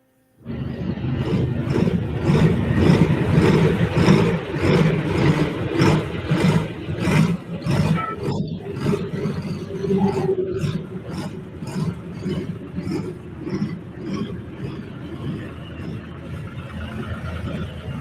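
A pulling tractor's engine roars loud and close at a truck and tractor pull in Madera, California, a sustained heavy rumble with pulsing surges that fade somewhat toward the end.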